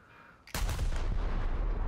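A naval high-explosive shell detonates in the video game War Thunder: a sudden loud blast after a quiet start, followed by a sustained rumbling roar of explosion and gunfire.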